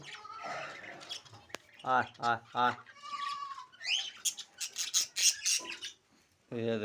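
A pet bird at feeding time gives a mix of short chirps and harsh squawks, close by and interleaved with a person's voice calling and talking to it, with brief pauses between bursts.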